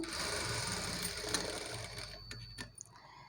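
A sewing machine stitches a blouse border with a steady close mechanical whir that runs evenly, then slows and stops near the end amid a few light clicks.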